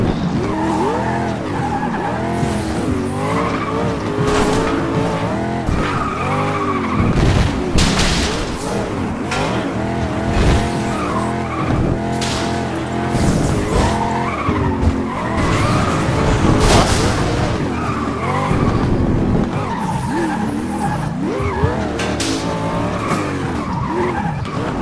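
Cars racing in the video game FlatOut 2, with constant revving engines, repeated tire squeals and skids, and occasional crashing thuds, loud and busy throughout.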